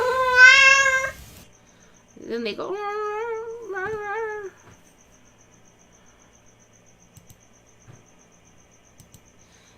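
Two pet cats meow, a gray one among them: a short plaintive meow, then a longer wavering one after a pause, close and clear, followed by near silence with faint ticks and a brief spoken remark.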